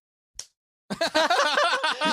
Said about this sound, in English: he forward palms him with a slap noise